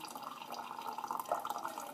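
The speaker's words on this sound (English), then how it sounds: "you just want to slowly pour your hot water through the coffee beans" Hot water trickles in a steady, fine stream through coffee grounds during a pour-over brew, with faint drips and a soft liquid hiss close by.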